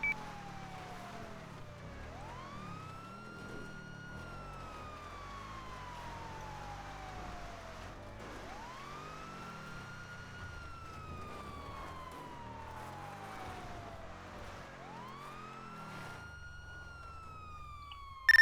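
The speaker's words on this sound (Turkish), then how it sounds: "Siren ve çek araç." A wailing police siren in GTA 5 sweeps up and down in long, repeating cycles over a low engine rumble, steady and moderately distant.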